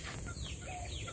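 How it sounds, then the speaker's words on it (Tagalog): Chickens clucking faintly in the background among other soft outdoor noise, with no one speaking. "Ayan po sa mga manok."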